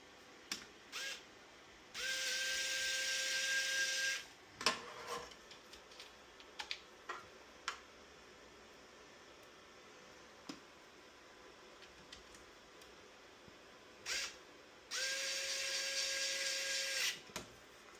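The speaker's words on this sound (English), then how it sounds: "Now we'll reinstall the 2 2mm screws." Small 2 mm screws driven into the hotend of a Phrozen ARCO 3D printer with a power driver, two close, steady whirring bursts of a few seconds each, separated by light clicks and handling taps.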